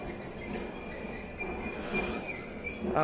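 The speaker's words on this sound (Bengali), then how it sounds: "আর পিকাডিলি লাইনের ট্রেন এখন ঢুকছে এদিকে" A London Underground Piccadilly line train rumbles into a station, its wheels squealing at a high pitch over steady mechanical noise, growing louder toward the end.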